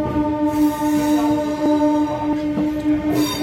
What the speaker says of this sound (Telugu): సో ఫైనల్లీ మన ట్రైన్ అయితే విజయవాడ నుండి అయితే బయలుదేరిపోయింది.